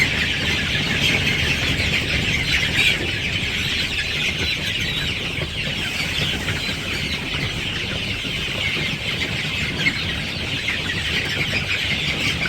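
A flock of month-old village chickens clucks and peeps continuously at moderate volume, a busy, overlapping chorus with no speech.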